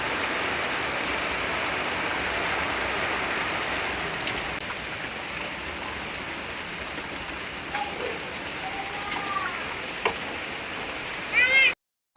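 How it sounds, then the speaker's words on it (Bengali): Heavy rain pours steadily as a dense, continuous hiss close by, with a few faint chirps and a brief clatter near the end. "কি পরিমাণে বৃষ্টি হচ্ছে"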